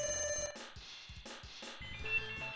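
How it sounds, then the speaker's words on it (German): A telephone rings with repeated electronic trill bursts in a clear on-off pattern, loud and close, with no talking. "Mein Telefon klingelt."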